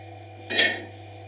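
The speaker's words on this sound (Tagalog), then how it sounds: "Halimbawa, kukuha ko ng kaserola." A single brief metallic clank of a cooking pot being picked up or set down, close by, over a faint steady hum.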